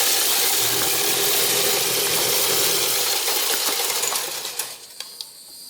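A 12-volt deer feeder spinner whirs loudly and steadily, flinging feed in a dense rattling spray for about four seconds before cutting off, leaving a few scattered pellet clicks.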